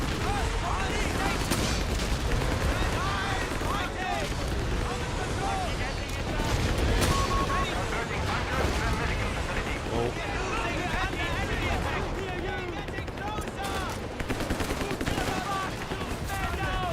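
A dense battle in the video game Company of Heroes 3 keeps up gunfire and indirect artillery fire as a continuous rattling barrage, with soldiers' voices shouting over the clamor throughout.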